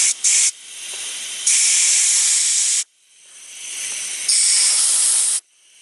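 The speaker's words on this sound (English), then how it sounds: "I can hear this air, compressed air is really useful" Compressed air blasts into the mass air flow sensor of a Toyota Corolla in loud, hissing bursts, two short puffs followed by two longer sustained blows, close and alone.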